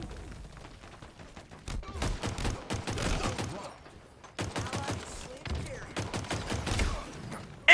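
Gunfire in the video game Halo Infinite, in an Oddball match: rapid bursts of loud, close shots in quick succession, with a short lull partway through before the firing resumes.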